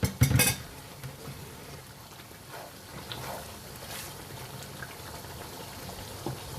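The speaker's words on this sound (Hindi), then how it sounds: "मैंने तकरीबन इसके अंदर आधा गिलास पानी डाल दिया है।" Water is poured into mutton keema cooking in a pan, a brief loud splash at the start followed by quiet sizzling and bubbling in a kitchen.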